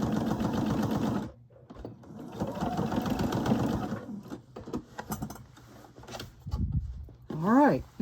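A sewing machine stitches a seam on a velvet princess gown in quick, close runs that stop and start. Someone talks in between the bursts of stitching.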